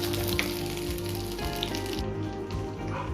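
Chicken sizzling steadily in a pan for a Lebanese haimam chicken rice, a dense, continuous frying crackle with small pops, close and fairly loud, with no voices.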